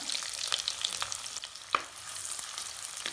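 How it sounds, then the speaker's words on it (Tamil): Steady soft sizzling of onions sautéing in oil, with occasional pops and light stirring scrapes, close by and without speech. "இப்போ வெங்காயம் வதங்குறது"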